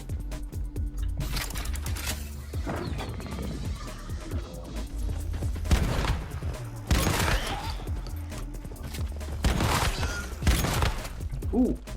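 Gunshots in the survival shooter Once Human come as a few scattered bursts of gunfire amid footsteps and game ambience, at moderate distance and fairly quiet.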